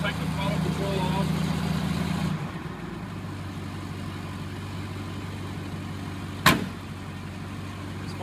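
An all-factory International Scout 800A's 304 V8 with a two-barrel carb idles nearby, its rough low rumble easing down to a calmer idle after a couple of seconds, with one sharp knock near the end.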